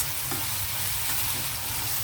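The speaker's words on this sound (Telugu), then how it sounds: "ఇప్పుడు మనం అల్లం వెల్లుల్లి పేస్ట్ వేసేద్దాం. ఇది కూడా కొంచెం పచ్చి వాసన పోయే వరకు కొద్దిగా వేగనిద్దాం." Onions and ginger-garlic paste sizzle in a pan for mutton keema, giving a close, continuous hiss and crackle over a short stretch, with no voices.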